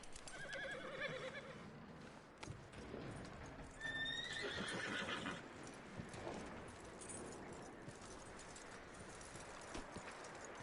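A horse in the Red Dead Redemption 2 video game whinnies loudly and close, its high neigh rising over steady clip-clopping hooves and rustling outdoor ambience.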